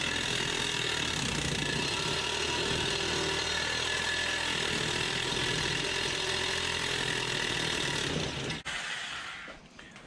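Power drill boring holes through 1/4 inch thick material for a homemade ice saw, a steady loud whirring grind that runs continuously before cutting off abruptly near the end.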